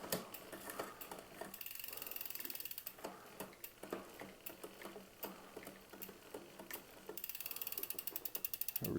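Ratcheting mechanical clicking from a 2023 Intense Primer 275 Expert mountain bike drivetrain, with the derailleur shifting down one cog. Steady close clicks speed up into a rapid buzzing run near the end, with no talk.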